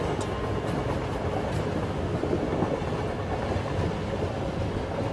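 A passenger train runs steadily on the rails as it approaches Agra railway station, with a continuous loud rumble and rhythmic clickety-clack of the wagons throughout, no voices.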